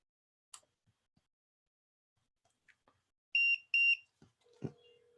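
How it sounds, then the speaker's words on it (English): A device gives two short, bright electronic beeps close by, evenly spaced, after a few faint clicks and taps, then a lower buzzing tone follows briefly at the end. "You see how it was beeping?"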